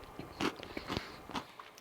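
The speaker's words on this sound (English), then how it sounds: "See if you can hear this crunch." Crunchy bites into a Popeyes fried chicken sandwich: several close, crisp crackles and chewing crunches in quick succession, fairly quiet, with no talking.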